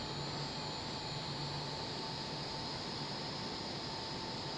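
Airplane engine during takeoff in a flight simulator game, a steady, loud, even jet roar with a constant whine, unbroken throughout.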